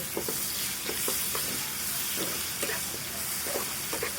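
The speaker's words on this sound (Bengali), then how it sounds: "এখন রসুনটা ভালো করে একটু ভেজে নেব।" Garlic fries with dried chillies and cumin in hot oil, a constant close sizzle broken by regular clicks and scrapes of a spatula stirring the pan, without talk.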